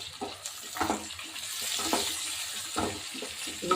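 Sliced small tomatoes dropped into hot coconut oil for a beef curry, giving a steady close sizzle with scattered crackles and stirring scrapes throughout.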